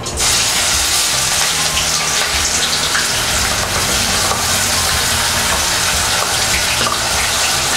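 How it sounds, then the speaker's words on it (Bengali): Onion paste hits hot oil in a wok while cooking dhaba-style chicken vorta, giving a loud, close, continuous hiss and sizzle that begins abruptly and holds steady throughout, with no talking. "পেঁয়াজ ইন, এবার পেঁয়াজ বাটাটা ফ্রাই হবে"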